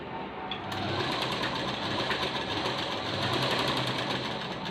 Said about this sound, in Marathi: पुन्हा वरून दाब शिलाई मारायची